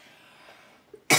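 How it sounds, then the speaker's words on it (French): A woman's loud, abrupt cough bursts in near the end, close and alone after a stretch of faint background hiss. "excusez-moi, je tousse"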